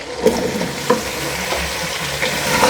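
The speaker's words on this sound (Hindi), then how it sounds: "अब इसको भी पहले हमने चिकन के साथ भून लेना है।" Chicken and long-cut potato pieces frying together in a pot for aloo gosht, a steady close sizzle with a few stirring scrapes and clinks, loud and continuous without speech.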